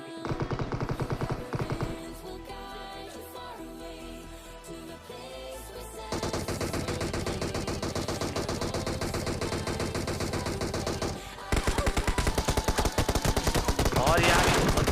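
Automatic gunfire from a squad-based shooter video game, loud sustained bursts that intensify toward the end over background game sound, with no talk.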